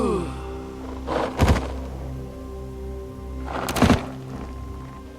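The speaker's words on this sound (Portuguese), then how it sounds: "Bonitos fogos de artifício lá." Fireworks in the video game Horizon Zero Dawn go off in two separate booming bursts with a crackling tail, a couple of seconds apart, over a low, steady ambient drone.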